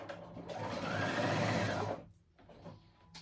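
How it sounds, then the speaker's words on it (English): A sewing machine zigzag-stitches at a steady, rapid pace for about two seconds, then stops, leaving quiet handling noises and a brief soft whir. "I go in with a zigzag stitch on my sewing machine"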